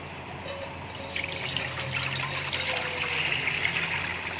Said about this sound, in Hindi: हमने पानी ऐड कर दिया